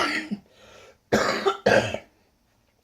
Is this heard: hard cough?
yes